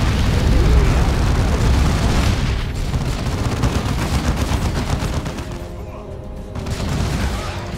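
Heavy gunfire and booming blasts in the Dawn of War 2 battle, loud and dense at first, then easing into rumbling impacts with a brief quieter gap before the noise swells again.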